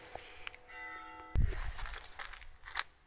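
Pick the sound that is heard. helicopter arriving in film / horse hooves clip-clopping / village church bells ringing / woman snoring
village church bells ringing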